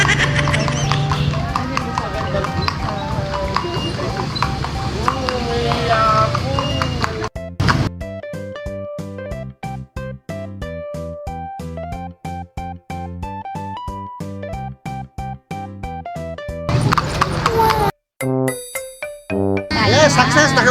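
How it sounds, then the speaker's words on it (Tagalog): Horse hooves clip-clopping: a dense, noisy rumble gives way to a steady, rhythmic run of sharp, even hoof-like clops with ringing tones mixed in, loud and close, ending in a brief burst of noise. "kabayo."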